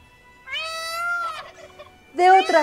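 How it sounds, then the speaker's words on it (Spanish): Turkeys gobble loudly and close by, a long warbling call followed after a pause by a second rapid burst. "Y también pavos."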